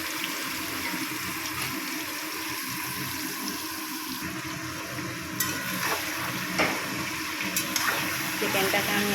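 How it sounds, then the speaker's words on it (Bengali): Chicken frying uncovered in an open pan for a chicken kosha, giving a dense continuous sizzle and hiss that holds steady throughout, with occasional small stirring clicks and a faint voice underneath. "চিকেনটাকে আমি এবার একটু ভালো করে ভেজে নেব।"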